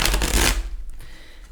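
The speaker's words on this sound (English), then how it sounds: "I want to continue getting some shuffling in to make sure that it's nice and ready" A new 78-card Runic Tarot deck being shuffled by hand, a loud close riffle of cards for about half a second that then fades to faint rustles.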